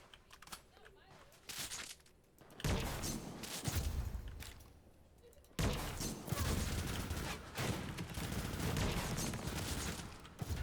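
Seeker rifle fire in the video game ADACA, dense bursts of rapid gunfire in long loud stretches broken by short pauses, with a voice speaking between volleys.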